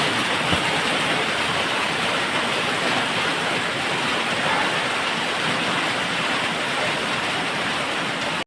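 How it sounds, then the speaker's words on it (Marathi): Heavy first monsoon rain pouring down in the evening in Maharashtra, a dense, constant roar of water lasting several seconds with no voices. "आमच्या इकडे हा मान्सूनचा पहिला पाऊस होता"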